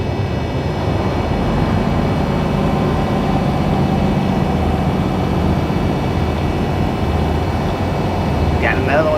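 Fixed-wing airplane passing over an interstate highway, a steady low engine drone blended with constant loud road and truck cab noise throughout.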